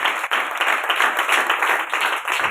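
Church congregation applauding loudly, a dense, sustained wash of many hands clapping close by, continuous for several seconds with only slight dips in intensity.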